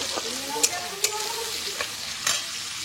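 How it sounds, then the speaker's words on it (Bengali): Chopped onion fries in hot oil with a soft, steady sizzle, broken by a few light clicks of a utensil stirring in the pan. "এবার পেঁয়াজটাকে আমি হালকা ভেজে নিচ্ছি"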